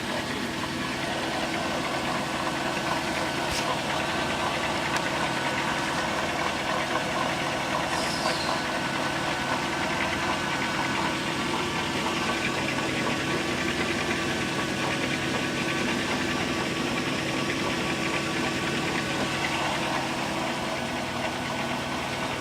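The engine of a 2002 Dodge Caravan idles steadily and close by, a continuous even rumble with a faint knocking texture. It runs alone for over twenty seconds without any talk.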